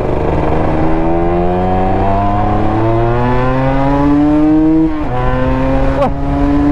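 A 1998 Yamaha TZM motorcycle engine drones loud and close at a steady rising pitch as it is held around 4,500 rpm, then drops briefly and picks up again, with no voices over it.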